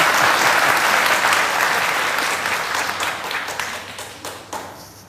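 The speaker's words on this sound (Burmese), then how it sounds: "ကျွန်တော်အဆိုကိုထောက်ခံတော့လက်ခုပ်တန်လေးကြားနေတယ်" An audience at a public debate bursts into dense applause that holds strong for a few seconds, then thins into scattered claps as it fades away.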